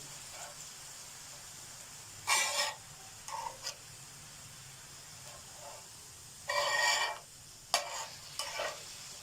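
Chicken leg pieces cooking on a tawa give off a low steady sizzle broken by several sharp, loud bursts of hissing spatter as they are pressed and stirred.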